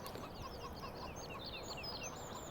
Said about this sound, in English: I can hear those damn chickens going.